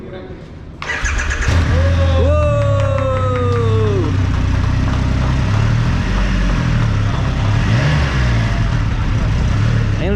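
A Triumph Rocket 3 GT motorcycle starts with the clutch held after a second of quiet, then settles into a loud, steady throbbing idle with a brief rev, while voices talk over it.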